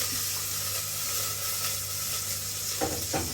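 Onions sizzle steadily in sunflower oil in a pan, a constant close hiss broken near the end by a couple of stirring scrapes, with no talk.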